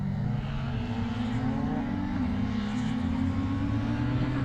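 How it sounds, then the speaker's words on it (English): Hot hatch rallycross cars, including a Citroën, race at Pembrey circuit, their engines droning in a sustained, slightly distant roar with shifting pitch and no talk over it. "So Leanne Sedgwick in the hot hatch Citroën goes through, and up front it is Darren Scott leading the way."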